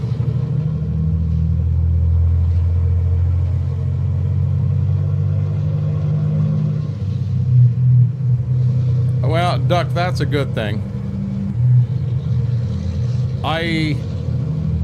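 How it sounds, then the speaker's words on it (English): A loud truck engine rumbles steadily at idle, a deep throbbing drone with someone talking over it partway through. "like the sound of this truck on one hand, and on the other hand, it's too loud."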